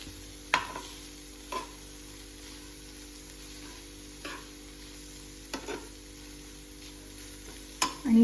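Capsicum being stirred in a pan, heard as sparse, isolated scrapes and taps every second or two over a quiet, faint background hum.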